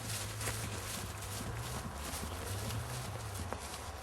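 A horse with a painful condition trots for a few strides, its hoofbeats an irregular clip-clop over a steady low hum and broad outdoor noise, with no talk.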